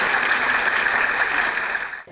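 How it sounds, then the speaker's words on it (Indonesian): Audience applause at a televised talk show, a steady dense wash of many hands clapping together, loud and sustained before cutting off abruptly at the end. "Kita berikan aplaus yang meriah"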